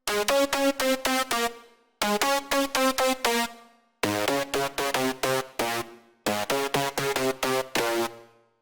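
A bright, buzzy future house supersaw synth lead plays short rhythmic stabs in four phrases, with a gritty distorted edge and a reverb tail after each phrase.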